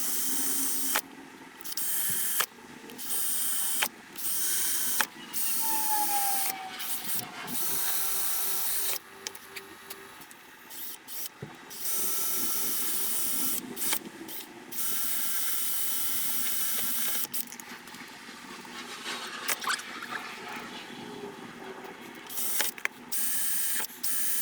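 An HM-2 guitar pedal enclosure is hand-drilled, with bursts of grinding and whirring separated by short pauses, plus small clicks and knocks of handling close by.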